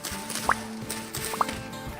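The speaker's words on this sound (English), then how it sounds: "There's a bird right outside of my balcony" Bird just outside a balcony, sounding two or three short, sharp chirps spread over a couple of seconds above a faint background hum.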